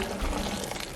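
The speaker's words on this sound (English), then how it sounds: "I'm going to pour the water with the chicken bouillon, 5 cups of water and chicken bouillon, into the carrots" Five cups of water mixed with chicken bouillon poured into a pot of carrots and potatoes, a loud, close, continuous gushing splash lasting about a second.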